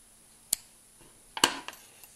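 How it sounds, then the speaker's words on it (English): Scissors snip off the tail of knitting yarn after the end of a beginner's knitted hat is woven in: two quiet, crisp cuts about a second apart, the second followed by a few faint clicks. "snip it off"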